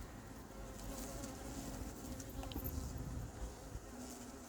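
Hornet and honeybee buzzing close by at a bottle trap beside a beehive in an apiary, a steady insect drone with fluttering wingbeats that swell slightly midway.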